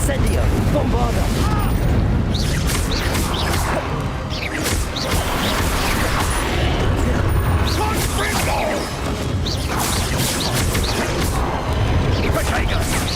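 Fire and blasting spells explode in Hogwarts Legacy, a loud, relentless barrage of crashing booms, whooshes and impacts, with repeated sharp bursts over a heavy rumbling bed and shouted voices mixed in.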